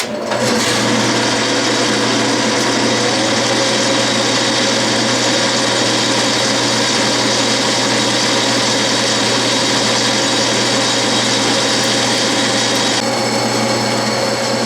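Metal lathe turning a bell center punch with the spindle sped up, a loud steady whine and hum of the running machine with a sustained tonal drone, unbroken until a slight change near the end.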